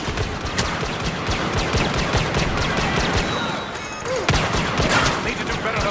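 Star Wars Battlefront blaster fire, dense rapid bolts crackling continuously in a busy firefight, loud and close, with voices shouting over the shots.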